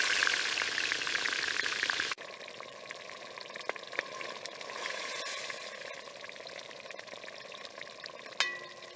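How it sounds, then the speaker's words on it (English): Tuna sizzles and crackles loudly in a hot pan, then settles into a steadier, quieter frying hiss with occasional pops. "watch the sizzle"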